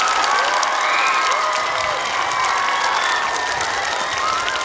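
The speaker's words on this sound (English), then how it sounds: "Let's give Mr. Brown a big round of applause." At an elementary school ribbon cutting, a crowd applauds with cheering and children's excited shouts and whoops layered over steady clapping, lively and loud throughout.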